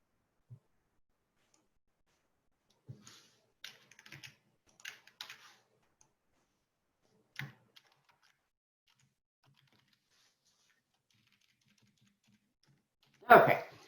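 Typing on a computer keyboard, with scattered short bursts of soft key clicks separated by quiet gaps and one louder burst at the end.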